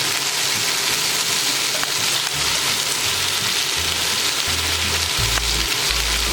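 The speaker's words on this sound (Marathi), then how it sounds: "मी परतून घेते साईड, आणि स्लो गॅसवरतीच करायचं आहे" Chicken liver (kaleji) fries in a pan over a low flame, giving a dense, even sizzle like steady rain, with occasional soft low thumps underneath.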